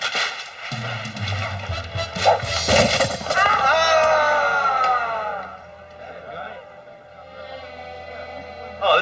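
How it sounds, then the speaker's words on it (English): A burst of gunfire erupts in a courtroom, with sharp repeated shots and booming cracks clustered early, followed by a ringing, noisy din that tapers off. "a mild gunfight has broken out here behind me in the courtroom"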